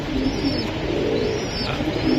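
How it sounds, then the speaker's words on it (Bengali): A Giribaz pigeon, one of the birds for sale at a breeding farm, coos repeatedly at close range, its soft calls rising and falling over a steady background of flock noise. "এই যে গররাটা ডাকতেছে"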